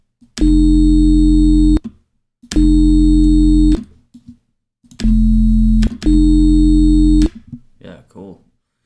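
Four sustained, buzzy UK garage synth bass notes, harmonically rich and distorted, played loud with short gaps between them, followed by a brief burst of talk.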